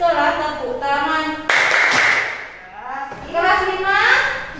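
Schoolchildren in an elementary school classroom clap their hands together in a short, sharp burst, set between stretches of children's and adults' chanting voices.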